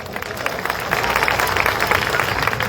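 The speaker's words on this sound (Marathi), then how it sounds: "वाजवा टाळ्या जोरात" An audience claps through a political speech by a Congress district president at the Latur municipal corporation, a dense, steady wash of applause that holds for a few seconds without talking.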